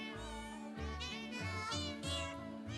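Cats meowing in a novelty recording, a run of pitched, sung-sounding meows strung together over a continuous musical backing, loud and close.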